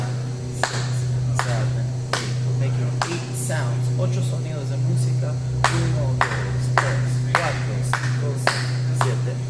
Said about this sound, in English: We're just going to clap.